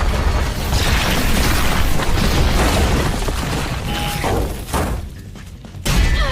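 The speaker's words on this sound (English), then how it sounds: "the entire place erupts into destruction and chaos, which ultimately ends with the UFO crashing onto a random street." In the anime Dandadan, a UFO crashes onto a street amid widespread destruction: a loud, continuous roar of booming impacts, shattering debris and rumbling, with a brief lull before another heavy burst near the end.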